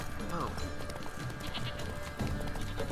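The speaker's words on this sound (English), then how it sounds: "get your goats off the road" Sheep-like bleats from goats in The Witcher 3: Blood and Wine, a few short cries mixed with hoof clatter and a voice talking over a busy game background.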